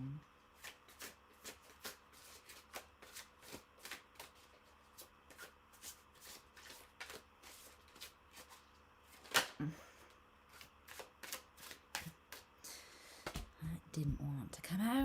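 Tarot cards shuffled and drawn by hand, a long run of quick crisp riffles and soft slaps with brief pauses, close and quiet, ending with a short bit of soft speech.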